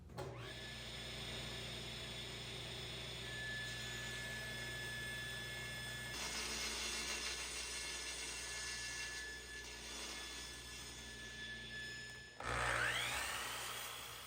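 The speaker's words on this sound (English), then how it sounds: "use the crosscut sled to cut the bench legs to length" A table saw with a crosscut sled hums steadily while a wooden bench leg is cut to length, the blade tone roughening during the cut before the motor spins down, close and alone.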